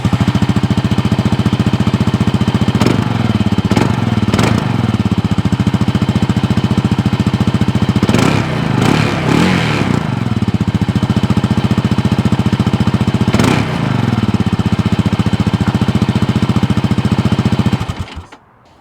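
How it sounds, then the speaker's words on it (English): A 2023 Kawasaki KLR 650 single-cylinder motorcycle engine thumps loudly and steadily at idle, with a few sharp revs blipping in between, before it cuts off at the end. "let's do that and hear the thumping sound of the 2023 Kawasaki KLR 650's thumper engine."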